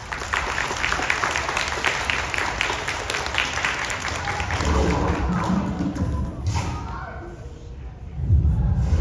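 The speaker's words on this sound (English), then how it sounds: "Want to give him a round of applause?" Applause from an audience greeting a presenter named Tom Murphy, a dense, fairly close patter of clapping that thins out toward the end, with a few thumps near the close.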